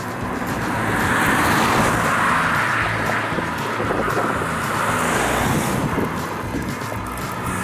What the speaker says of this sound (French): Eh bien regardez, je vais me faire dépasser à 90 à l'heure.